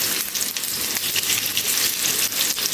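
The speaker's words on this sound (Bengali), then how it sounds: "আলুটা একটুখানি তেলের মধ্যে ভেজে নেব" Boiled potatoes frying in a little oil in a pan, a dense, steady sizzle with a few soft stirring scrapes, close and fairly loud throughout.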